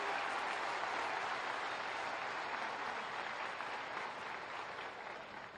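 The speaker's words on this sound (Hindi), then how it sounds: "बहुत जोरों से ताली बजाएंगे." A large crowd at a political rally in Achalpur, Maharashtra applauds steadily to welcome Yogi Adityanath, a dense, sustained wash of clapping that holds strong before tapering slightly near the end.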